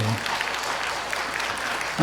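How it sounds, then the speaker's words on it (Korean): A church congregation at a Wednesday prayer service breaks into applause, a steady broadband patter of many hands that fills the room for about two seconds, with a voice briefly audible at the start and end. "박수 한번 좀 할까요?"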